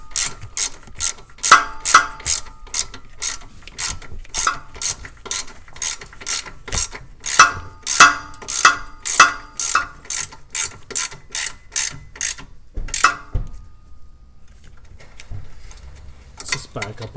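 A hand ratchet snugs a 10 mm bolt on a 2007 Honda Odyssey during power steering high pressure hose replacement, giving a long run of loud, close, evenly spaced clicking strokes before a brief pause and a few more clicks.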